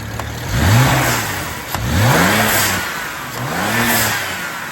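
BMW 335is engine revving three times in smooth rising and falling sweeps, close and loud, with a light wastegate rattle riding over the steady engine drone.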